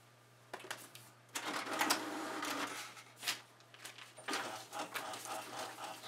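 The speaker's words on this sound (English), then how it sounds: "I'm going to print it out." A home printer feeds and prints pages for a 16-inch figure template, giving bursts of mechanical whirring and clacking that stop and restart between passes, close by and alone over a faint steady hum.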